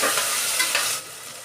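Ingredients for chicken biryani frying in a pan while being stirred, a loud close hissing sizzle that eases slightly after a second, no voices.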